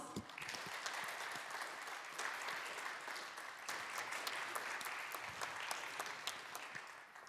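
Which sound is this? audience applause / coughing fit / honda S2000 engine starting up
audience applause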